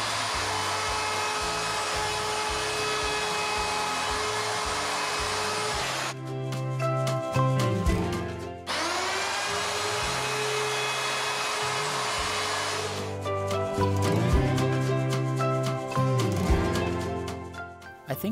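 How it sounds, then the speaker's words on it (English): A wood router fitted with a 1/4 inch roundover bit whines loudly at high speed, with two long steady runs each broken by a rougher, chattering stretch as the bit cuts the wood edges, no talk. "if you have a router with a 1/4 inch roundover bit, you can make these handles look really,"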